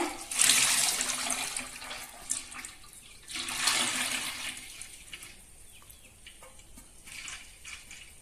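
Homemade coconut oil is poured into a pot for heating, giving a couple of gurgling, splashing pours that swell and fade, with quieter trickling and drips between them and no talk.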